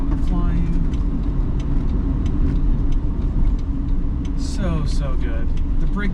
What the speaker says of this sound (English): So much good usable power in this engine.